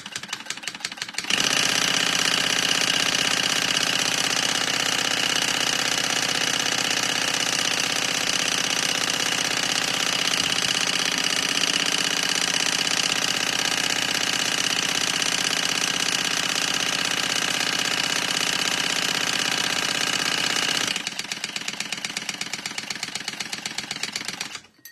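A sewing machine stitching a crossbody bag runs in one long continuous buzzing whir for about twenty seconds, close and steady, starting abruptly after a quiet moment and stopping just as suddenly, followed by faint ticking.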